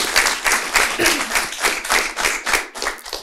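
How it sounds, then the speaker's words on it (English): A small audience claps in steady, dense applause, close and fairly loud, sustained for a few seconds without any talking. "I think that deserves an applause"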